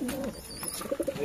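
Giribaz pigeons coo in a loft, with several short, soft, close burbling coos toward the end over light background noise.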